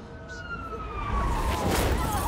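A police car siren in the video game Spider-Man: Miles Morales, a wailing tone sweeping up and down over a busy rumble of city noise and action, steady and moderately loud.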